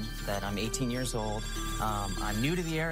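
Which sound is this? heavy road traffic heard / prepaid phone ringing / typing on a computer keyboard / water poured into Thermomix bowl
prepaid phone ringing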